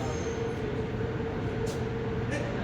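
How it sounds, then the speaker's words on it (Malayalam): A Riyadh Metro train in Saudi Arabia rumbles steadily from inside the carriage, a constant low roar with faint high squeals now and then. "അങ്ങനെ നമ്മളിതാ മെട്രോയിൽ കയറി കേട്ടോ"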